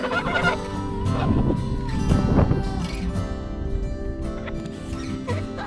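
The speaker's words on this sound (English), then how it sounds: "I've got to control my geese first." Geese honk and chatter close by over a busy outdoor background, several calls overlapping throughout.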